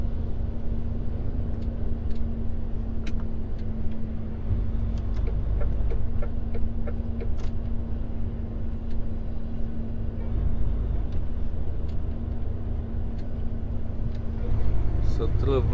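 Van engine rumbling steadily from inside the cabin while driving on a road, a continuous low drone with a few light ticks over it throughout.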